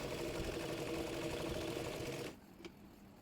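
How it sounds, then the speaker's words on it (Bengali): A sewing machine stitches along the side of a lightweight summer baby girl's frock, running steadily and close for about two seconds, then stopping abruptly, leaving near silence with one small click. "একইভাবে অপর পাশটিও সেলাই করে নেব।"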